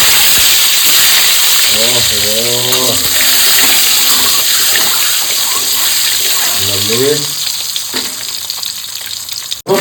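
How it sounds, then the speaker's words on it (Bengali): Eggs frying in hot oil for egg curry fill the space with a loud, steady crackling sizzle close by, while someone talks over it at intervals. "তেল গরম হয়ে গেছে, ডিমটা হালকা ভেজে তুলে নিতে হবে"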